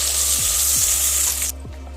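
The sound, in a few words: sliced onions frying in a pan for mushroom biryani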